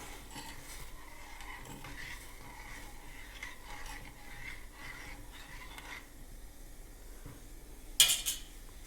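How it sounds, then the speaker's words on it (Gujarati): Ginger and mint tea is stirred in a pot on the stove. Soft scraping and quiet clinks of a spoon go on for a while, ending in one sharper metallic clank. "હલાવતા રહીશું"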